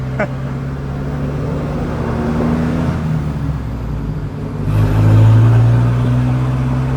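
A tuned car's engine drones steadily at low revs as it is driven slowly, a close continuous hum that swells louder for the last couple of seconds.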